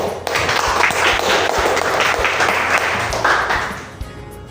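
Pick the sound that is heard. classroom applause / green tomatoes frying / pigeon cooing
classroom applause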